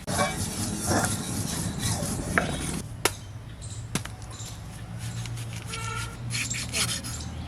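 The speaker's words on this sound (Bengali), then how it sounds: "মাছের মশলা হবে জিরে ধনে দুই কুয়া রসুন আর শুকনো লঙ্কা এটা আমার ননদ বেটে দেবে" Cumin, coriander, two garlic cloves and dried chilli are ground into a spice paste for a fish curry, giving a rough, repeated rubbing and scraping with a few sharp knocks, fairly close, with faint voices in the background.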